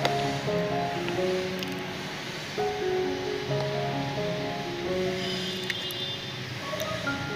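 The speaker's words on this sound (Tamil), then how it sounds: "கொஞ்சம் தண்ணி சேர்த்துட்டு ஒரு 2 நிமிஷத்துக்கு நல்லா கொதிக்க வச்சுக்கிறேன்." An eggplant side dish bubbles steadily as it simmers in a pan with added water, a continuous close hiss of boiling that runs the whole time, with faint tonal background sounds.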